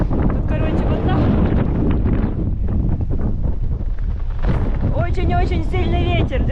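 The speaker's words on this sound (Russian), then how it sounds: "Очень-очень сильный ветер" Very strong wind roars and buffets the microphone continuously on the climb up to Yoros Castle in Istanbul, loud and close throughout, with a person talking over it in bursts.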